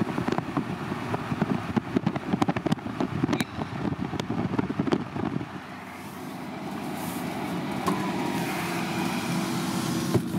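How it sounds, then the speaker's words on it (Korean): A BMW E30 320i with a 2.0-litre inline-six engine drives along, its exhaust and engine note a steady low drone mixed with road and wind noise, rough and choppy at first, then smoother and continuous. "혹시 엔진 배기음 소리 들리세요?"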